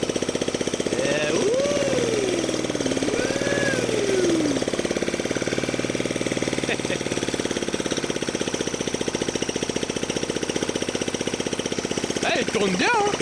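A small engine from a pony project bike runs steadily with a loud, continuous rapid chugging close by, holding a constant pace for the whole stretch while someone talks over it at times.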